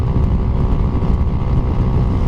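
A Yamaha Sniper 150 motorcycle engine runs close by on a charity ride, a steady loud droning hum with slight throttle pulsing and no talk.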